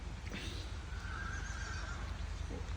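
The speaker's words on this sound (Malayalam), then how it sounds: "കുതിരയൊക്കെ ഉണ്ട്, കുതിരയുണ്ട്" A horse whinnies once, a drawn-out neigh heard at moderate distance over a constant low engine rumble from a truck on a narrow path in Germany.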